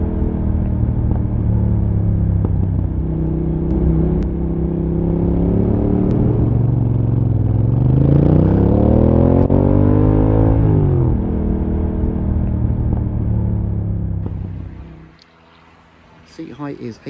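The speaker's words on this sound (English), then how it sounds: "It's a pushrod engine, so it does clatter quite a bit." A Norton Commando 961 motorcycle's pushrod twin runs close by with a deep, throbbing idle that rises and falls as the throttle is blipped, with a mechanical clatter. It cuts out near the end, leaving brief faint noises.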